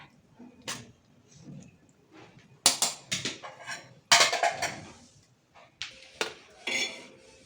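Plates and steel dishes clatter and clink as they are set out for a home meal of hot rotti and palya, in sharp irregular bursts with quiet gaps between them.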